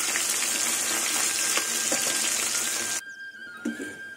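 Fish fries in hot oil with a loud, even sizzle that cuts off abruptly near the end, leaving a few faint clinks of utensils.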